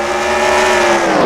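Stock race car accelerating hard at Richmond in a sim racing game, a loud, steady engine roar with engine tones climbing slightly, close and continuous, with other cars blending in.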